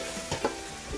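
Garlic and mushrooms are stirred in a frying pan, giving a steady low sizzle with a couple of brief scraping stirs near the middle of the short moment.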